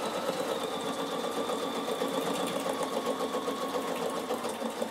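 A Bernina sewing machine doing free-motion stitching on an upcycling project hums steadily and continuously at moderate volume, with a fine rapid needle rhythm throughout and no voices.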